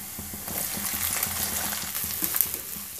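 Small onions going into hot oil where garlic is already browning, for a traditional pickle, give a steady crackling sizzle with faint stirring scrapes throughout.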